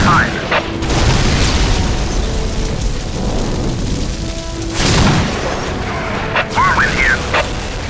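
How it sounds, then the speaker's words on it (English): Whirlwind missile battery in Dawn of War firing heavy booming launches, with broad blasts near the start, middle and end over a dense rumbling battle bed, and a voice speaking amid the noise. "Preparing whirlwind missile battery to fire."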